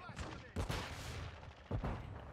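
Bursts of rapid gunfire in Call of Duty Modern Warfare II (2022) multiplayer, two sharp volleys over continuous battle noise, with a voice talking at times underneath.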